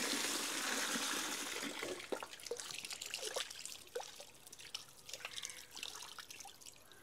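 Water splashes and trickles as dried fish is rinsed and washed by hand, with a steady running flow at first, then irregular dripping and sloshing close by.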